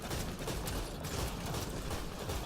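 Flak cannon fire in the game Mass Effect, a dense, continuous roar of bursting shots filling the whole stretch, loud and close with no pauses.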